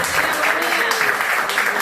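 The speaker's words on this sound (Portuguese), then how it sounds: "Se é para Jesus, pode aplaudir." Congregation applause during a church service, a dense, continuous wash of many hands clapping fairly close, with a faint voice mixed in.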